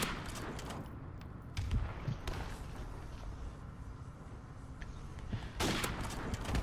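Gunfire in Modern Warfare Remastered, a dense fusillade of repeated shots, bursts and impacts close and loud amid busy multiplayer game noise, with heavier clusters of shots near the start and end.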